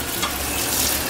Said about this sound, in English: I'm gonna stir these noodles up